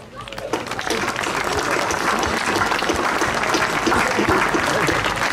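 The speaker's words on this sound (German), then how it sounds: "Und das ist wirklich mal ein extra Applaus wert." Sustained crowd applause at a large outdoor rally, loud and dense throughout, with scattered cheers mixed into the clapping.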